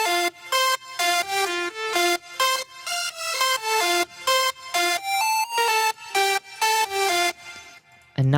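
Bright synth lead in an electronic buildup, its stereo layers removed, plays a steady repeating pattern of short staccato notes with brief gaps, loud and alone with no voices.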